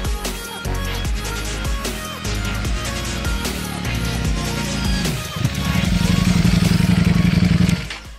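A Ducati Streetfighter V4S motorcycle engine runs loud and close while riding, with steady revving and rising gear-change pitch, then a sustained high-rpm drone toward the end; no talk is heard.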